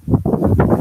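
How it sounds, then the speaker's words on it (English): Outdoor wind buffets a microphone in low, rumbling gusts, a series of close, muffled thumps and whooshes that surge and drop over less than a second. "it's very windy outside"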